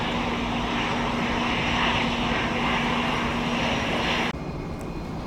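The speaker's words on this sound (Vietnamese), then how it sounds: "Và chiếc máy bay sẽ nhanh chóng tiến lên đường băng." A passenger airplane taxis toward the runway at Tan Son Nhat airport in Saigon, its engines a loud steady roar with a constant whine that cuts off abruptly near the end, leaving a lower rumble.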